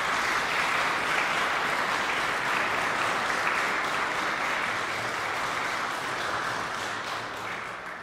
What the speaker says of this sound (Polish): proszę państwa, duże brawa, wielkie gratulacje